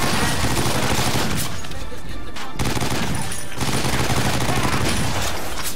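Dense, sustained automatic gunfire from a big machine gun in the shooter game 50 Cent: Blood On The Sand, loud rapid bursts running almost without pause, with a brief gap between volleys.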